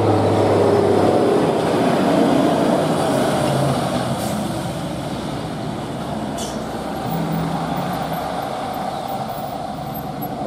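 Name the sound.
Hino and Nissan trucks struggling uphill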